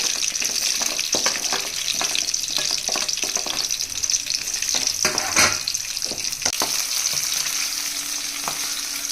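Onions frying and sizzling in a pan for tomato chutney, a steady broadband crackle with occasional stirring clatter, near and fairly loud throughout, no talking.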